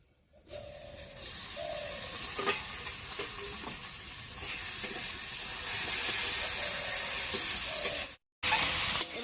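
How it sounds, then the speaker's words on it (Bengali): Tomatoes cooking down in an uncovered pan, a close steady sizzle and steamy hiss with several spoon stirs and scrapes, swelling louder midway before a brief cut near the end. "ঢাকা দিয়ে টমেটোটা বেশ কিছুক্ষণ রান্না করে নিয়েছি টমেটোটা গলা গলা মতো হয়ে গেছে এবার ঢাকাটা তুলে দিচ্ছি"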